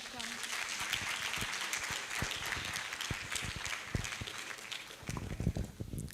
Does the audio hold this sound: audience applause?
yes